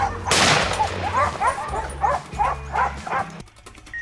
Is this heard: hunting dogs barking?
yes